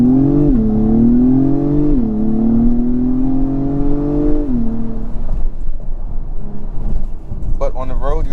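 A 2022 Acura TLX Type S accelerates hard from inside the cabin, its engine tone climbing through several gear changes, each followed by a brief drop, loud and close.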